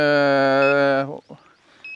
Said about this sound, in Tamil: இப்போ நீங்கள் கேட்டிருப்பீங்க அந்த அலாரம் சவுண்ட் இதுதான்